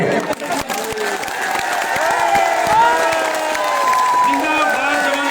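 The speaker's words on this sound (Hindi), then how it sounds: "तमाम लोग तालियों से स्वागत करें।" Open-air village rally crowd cheering and clapping to welcome politicians, a steady dense roar of voices and applause with whoops throughout.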